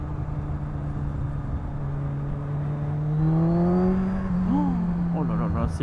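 A Yamaha MT-09 SP 2021 motorcycle engine revs upward under acceleration, its tone climbing steadily and close, with wind noise and a rider's voice speaking over it toward the end.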